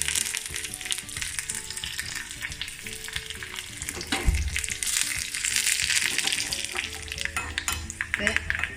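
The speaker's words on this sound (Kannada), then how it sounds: "ಒಂಚೂರು ಸಾಸಿವೆ ಪಾಡ್ಗ ಅಂಚನೆ ಬೆಳ್ಳುಳ್ಳಿ ಕೆಂಪು ಮುಂಚಿ ಒಂಚೂರು ಬೇವ ನೆಸಲು ತಕ್ಕ ಪಾಡ್ಗ" Mustard seeds, garlic, red chili and curry leaves sizzle and crackle steadily in hot oil for a Mangalorean okra curry, with a loud, dense frying hiss and occasional utensil clinks.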